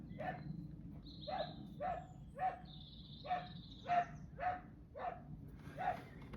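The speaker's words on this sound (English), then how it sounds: "Appearing as the sound of a dog barking." Dog barking repeatedly in a steady series of about nine sharp barks, moderately near, over a low background rumble with no talking.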